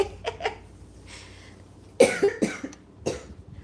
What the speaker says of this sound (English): I really need to try not to cough